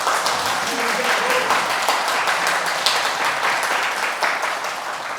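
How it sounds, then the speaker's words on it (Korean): An audience at a political lecture claps together in a steady, dense burst of applause, with scattered voices mixed in throughout. "박수 한번 쳐주세요"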